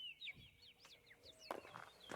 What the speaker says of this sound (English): Oh, we have chickens?